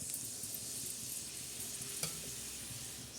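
Vegetables hit hot peanut oil in a kadhai for an onion, green chili and besan dish, giving a steady, close sizzle that runs the whole time with a small clink near the middle.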